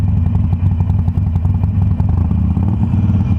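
A Harley-Davidson Sportster Roadster engine idles up close with a deep, loud, lumpy rumble that pulses unevenly and is overlaid by mechanical clatter.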